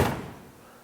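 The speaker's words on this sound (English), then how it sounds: "Doors close good." A single close thud as the door of a 1965 Ford Mustang fastback is shut, a solid slam that decays quickly into quiet.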